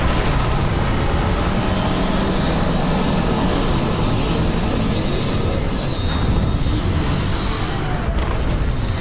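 A spaceship lands in the Starfield video game (Shattered Space DLC) with a continuous loud, roaring engine rumble that stays heavy and steady throughout.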